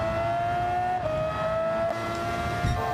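An unlicensed Williams Formula racing car in Gran Turismo 7 holds a high, steady engine whine, shifting pitch slightly as it upshifts, loud and close with no talk.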